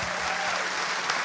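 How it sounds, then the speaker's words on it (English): Audience applause at a live James Bond concert, a dense, steady wash of many hands clapping together, loud and continuous throughout with no voices over it. "let's give a rousing round of applause like you're doing already"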